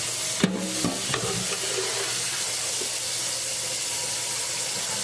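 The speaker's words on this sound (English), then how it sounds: "I always like to rinse out the can a little." Water splashes into an emptied tomato can as it is rinsed out in a kitchen, a steady close hiss and trickle with a couple of brief clinks near the start and no talking.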